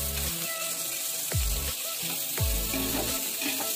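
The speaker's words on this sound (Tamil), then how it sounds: "பச்சை வாசனை போகிற வரைக்கும் நல்லா வதக்கணும்" Onion and tomato are sautéed in a pan for egg biryani, a loud, steady sizzle with a couple of short swooping scrapes as the mixture is stirred, close by and without talk.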